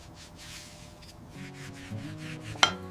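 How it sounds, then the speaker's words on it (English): Wood stock of a vintage revolver being buffed by hand, a soft continuous rubbing and swishing in repeated strokes, close and quiet, ending with one sharp tap. "Buffing the wood to a soft, natural sheen, not too glossy."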